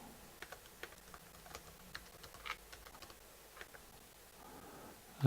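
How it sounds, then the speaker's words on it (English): Computer keyboard keys tapped while typing a new password, a quiet run of light, irregular clicks with brief pauses, close and alone. "I'll type in the new password."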